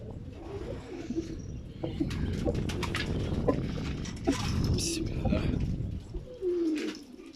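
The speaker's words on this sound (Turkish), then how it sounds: "aklınıza gelecek her çeşit hemen hemen her kuş var burada" Pigeons coo steadily in a crowded coop, soft throaty calls layered with flutters and rustling, while someone speaks briefly over them.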